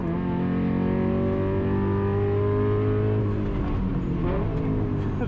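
Porsche GT3 engine at a wet track day, a loud sustained drone with steady harmonics that shift pitch partway through as the car changes revs, continuous and close with no talk.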